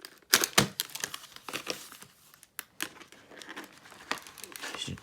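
Crinkly plastic wrapping on a VHS tape case is crumpled and torn open in a few sharp bursts, close and fairly quiet, with scattered rustling between the louder rips.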